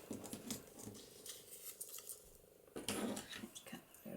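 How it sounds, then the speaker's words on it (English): Scissors snipping the small corners off tiny paper shaker tags, close and fairly quiet, with a series of crisp snips and light paper rustles spaced irregularly and no talking. "let's cut the little corners off"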